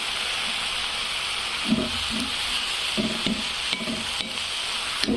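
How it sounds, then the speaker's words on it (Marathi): Fenugreek greens (methi bhaji) fry in a pan with garlic, a steady close sizzle and hiss with occasional soft stirring scrapes and clinks of a spoon. "तर मस्तपैकी अशी आपली मेथीची भाजी शिजत आहे"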